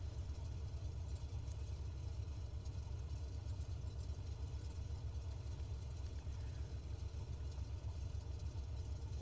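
An aircraft engine at idle power in Microsoft Flight Simulator 2020 gives a steady, low, even hum with a faint rhythmic throb, unbroken throughout and with no voices.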